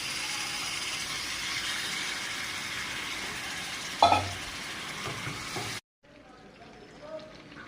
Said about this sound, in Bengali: মাংসটা দিয়ে দিচ্ছি, মশলা সুন্দর করে ভাজা হয়ে গেছে। এর মাংসটা ভালো করে কষিয়ে নেব।